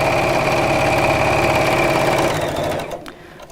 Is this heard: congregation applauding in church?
no